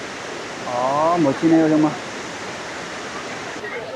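A huge waterfall at Huangguoshu thunders as a steady, broad roar close by, while a person talks briefly over the rushing water.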